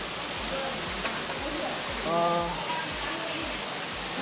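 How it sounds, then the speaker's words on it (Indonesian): Proklamator waterfall in Minang, with clear, cool water, gives off a steady, close broadband roar of falling water that continues without a break, and a voice rises briefly over it midway. "Bagaimana menurut Bapak Raju dengan air terjun proklamator ini"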